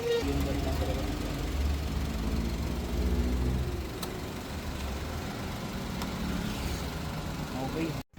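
A Toyota Wigo car engine in factory condition idles with a low, steady hum that is stronger in the first half, then drops to a quieter drone, with a voice talking over it.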